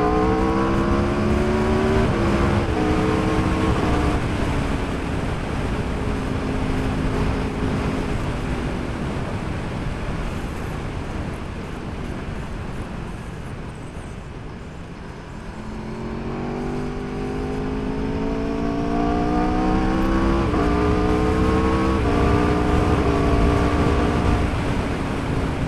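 A 2019 Aprilia RSV4 Factory V4 sportbike engine revs hard while riding, loud and close with rising gear-by-gear whines, a brief easing mid-ride, then strong acceleration again over heavy wind roar.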